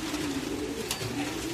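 Soft, low cooing from pigeons or doves, steady and fairly faint, with a brief rustle partway through.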